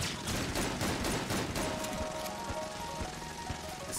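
Rapid, dense gunfire in Enter the Gungeon, a sustained rattling barrage of shots with an electronic tone underneath, easing slightly toward the end.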